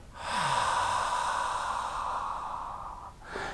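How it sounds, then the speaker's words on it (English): A single slow, deep diaphragmatic belly inhale, close and fairly loud, a steady airy rush lasting about three seconds, followed by the faint start of another breath. "Inhale deeply by pushing your stomach out."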